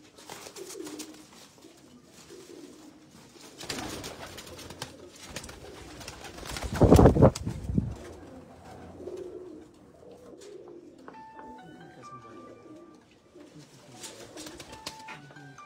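Pigeons at a loft in Jinnah Garden, Islamabad, give soft, intermittent cooing and rustling close by, with a brief louder burst of wing noise midway and occasional faint background sounds.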